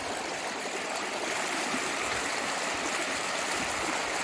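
A stream flows steadily with a continuous, full rushing and babbling of water, close by and unbroken throughout.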